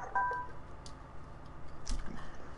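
A mobile phone pings with a short electronic tone, faint and at a distance, followed by soft clicks and rustles in a quiet room.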